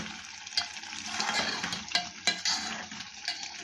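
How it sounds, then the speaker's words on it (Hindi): Chicken korma bhuna-frying in a pot with yogurt, onion and ghee: a steady sizzle with repeated spoon scrapes and clinks against the metal as it is stirred, close and fairly loud, with no voices. "ये देखिए कितनी ज़बरदस्त इसकी भुनाई हो रही है।"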